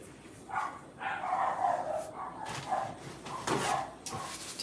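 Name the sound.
puppies barking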